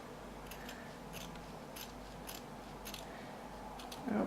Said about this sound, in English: It's way easier to cut if there's only one layer of linen, actually.